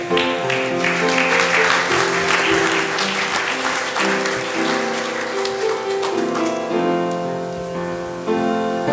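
A church congregation at a Methodist worship service applauds the puppet performers, a loud, sustained burst of clapping that fills the room and holds steady before easing slightly near the end.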